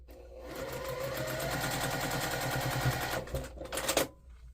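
A sewing machine runs steadily with a fast mechanical whir, stitching for a few seconds before slowing and clattering to a stop, close and fairly quiet.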